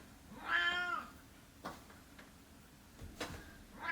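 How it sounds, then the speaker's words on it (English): A cat lets out one loud, drawn-out meow near the start, followed by a few faint clicks and knocks in an otherwise quiet room. "Cat, stop screaming."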